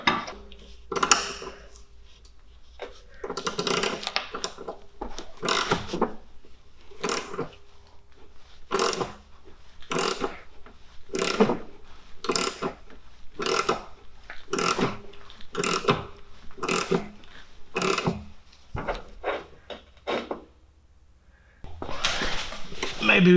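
A big wrench ratcheting on a ball joint bolt of an Alfa Romeo 75, giving a long series of evenly spaced metallic clicks and clanks, close up, with a person talking at times.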